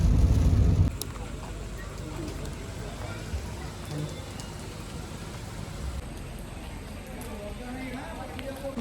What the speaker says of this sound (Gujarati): રસ્તામાં વરસાદ ચાલુ થઈ ગયો છે